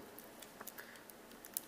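Soft, scattered key taps on a small portable Bluetooth keyboard, faint and close, with irregular light clicks and no talking.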